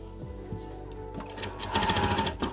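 Sewing machine stitching fine pleats on kameez fabric, a brief close burst of rapid mechanical clatter that starts after a few handling clicks and runs for about a second before stopping.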